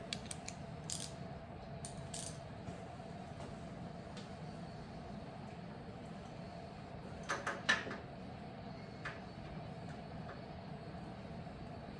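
A ratchet clicks in short bursts at the riser bolts of a 2023 Harley-Davidson FatBoy motorcycle, with a louder cluster of clicks partway through over a steady mechanical hum; no one talks.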